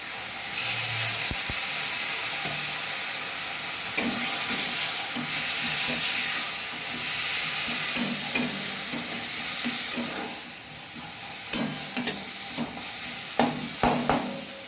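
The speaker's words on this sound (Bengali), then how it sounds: "মশলাটা দিয়ে একটুখানি জল দিয়ে দেবো।" Spice paste and a splash of water sizzle loudly and hiss in a hot pan, with repeated clinks and scrapes of a stirring spoon scattered throughout, close and busy; no talking.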